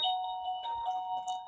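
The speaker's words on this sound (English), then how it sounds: "And someone's ringing the doorbell." A doorbell rings with a sustained two-tone electronic chime. It is fairly close and clear, with a soft rustle near the end.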